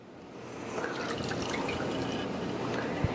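Whole milk poured into a saucepan of sugar for pumpkin spice fudge, making a continuous close liquid splash that builds and steadies over a few seconds, with no talking.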